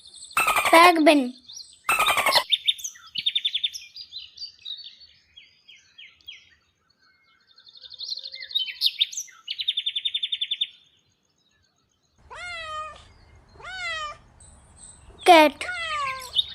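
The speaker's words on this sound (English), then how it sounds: "Penguin." Penguins call in loud squawking bursts, wavering chirps and falling trills, alternating with stretches of quiet.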